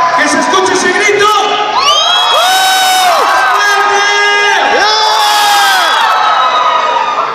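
A large crowd in the Zócalo of Mexico City shouts a sustained, rising battle cry together at a Saint Seiya fan event, loud and close, with overlapping voices swelling and falling.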